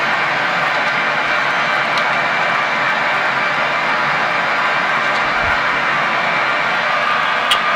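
Loud, constant airplane engine drone with rushing airflow on a landing approach with flaps extended toward a harbour runway, steady throughout with a brief thump near the end and no voices.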